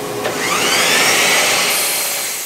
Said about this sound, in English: I'm going to have to pass these all through the table saw and get them all the same width